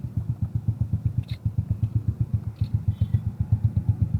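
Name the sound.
Suzuki Smash motorcycle with Apido v3 exhaust running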